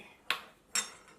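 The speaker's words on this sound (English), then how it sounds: "Stir it." Two sharp metallic scrapes of a spoon against a pan while stirring palak paneer, spinach and paneer cooking over low heat; the strokes are brief and spaced apart, with quiet between them.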